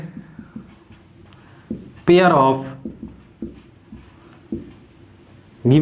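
Marker or chalk strokes on a board during a Class 10 maths lesson on linear equations in two variables, a steady run of scratchy strokes with pauses, close and clear, broken by a short burst of a man's speech.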